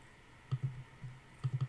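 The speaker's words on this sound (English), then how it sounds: "Clicking button." A few faint, soft clicks from pressing a button come in two small clusters against a quiet background.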